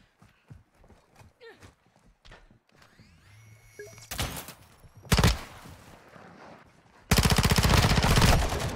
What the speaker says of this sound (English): I got shot by two people again